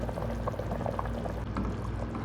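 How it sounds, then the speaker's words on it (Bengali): Ghee poured into a hot cooking pot for a chicken kabsa, giving a steady sizzling, bubbling wash of liquid heat that runs continuously at moderate level without pause. "ওটার বদলে একটু ঘি দিয়ে দিলাম"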